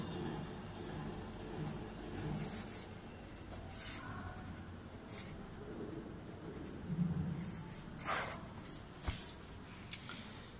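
Quiet marker strokes on a board during an electric motor lesson, a scattered run of scratches and short taps over low room noise, with no one speaking.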